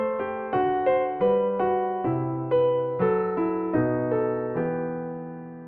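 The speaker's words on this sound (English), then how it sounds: "So the cycle of fifths sounds like this if you just use chord tones." Solo piano plays a diatonic cycle of fifths using only chord tones, each chord struck cleanly in a steady rhythm and left to ring and decay, about a dozen chords with no talking.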